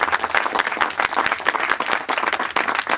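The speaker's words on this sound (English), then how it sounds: "please join me in a round of applause for the Robbins family, George" Lively applause from the audience at an outdoor dedication of a memorial viewing platform, many hands clapping in a dense, fluttering stream that stays loud and steady.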